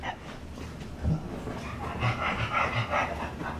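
An excited dog pants and moves around indoors, with quick breathy panting, soft paw and body bumps against the floor or couch, and a few small yelps, close by.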